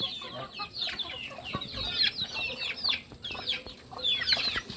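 Gamefowl laying hens cluck in a busy, overlapping stream of short calls, close by and steady throughout, with no one speaking.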